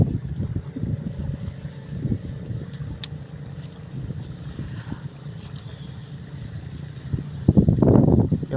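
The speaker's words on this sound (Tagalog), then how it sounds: "Walang hinto yung hangin, lamig." Gusty wind rumbles and buffets steadily over open fishing grounds near water, with a louder rush of wind near the end.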